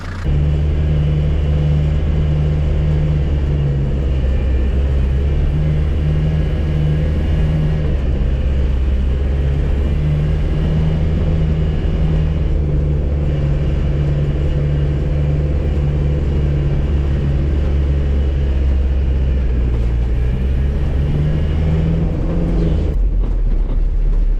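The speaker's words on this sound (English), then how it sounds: "So let's see if the four-wheel drive works then" A Land Rover Series III with newly fitted hub locks driving in four-wheel drive, a loud, steady low engine drone and drivetrain rumble heard from inside the cab for the whole stretch, with no talk.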